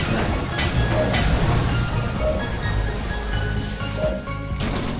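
Video game item shattering during an upgrade attempt at +9, with a loud crash and boom over a continuous noisy game soundtrack, brief sharp bursts standing out amid dense rumbling texture.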